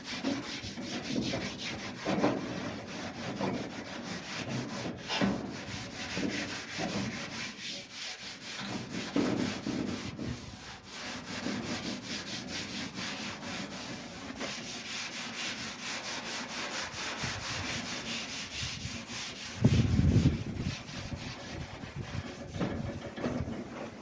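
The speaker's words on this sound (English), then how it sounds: "just kind of rub it all over, and it takes all the loose shit off, and smooths everything out" A 1950 Ford's car body panel is rubbed over by hand to smooth a patina finish, giving a continuous close scratchy rubbing and sanding sound with irregular strokes and no talk.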